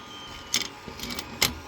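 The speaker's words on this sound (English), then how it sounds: "Sorry about the noise of the 3D printer as well." 3D printer running in a workshop, soft whirring hum with a few sharp clicky bursts from moving parts, moderately quiet, no talking.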